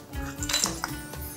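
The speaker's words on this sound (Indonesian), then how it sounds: "kita aduk lagi sampai rata benar ya" A utensil scrapes and clinks against a pot while spicy lado-style beef ribs are stirred, a few light metallic taps and rubs close up and fairly quiet.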